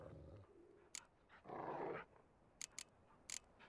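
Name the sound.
dogs growling in The Witcher 3 video game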